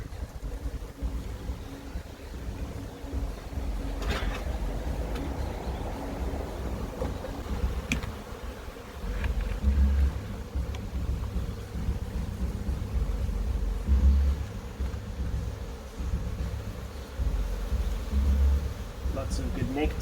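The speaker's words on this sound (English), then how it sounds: "it's a stronger colony, there's a lot more bees" A strong colony of honey bees hums steadily around an open hive during an inspection, a constant moderate buzz with a few louder low thumps.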